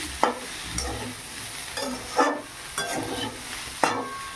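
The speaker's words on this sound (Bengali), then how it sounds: "সজনে ডাঁটা আর আলু মোটামুটি অনেকটাই ভাজা ভাজা হয়ে গেছে।" Drumsticks and potatoes frying in a wok give a close, continuous sizzle, with five or six sharp scraping stirs spaced about a second apart.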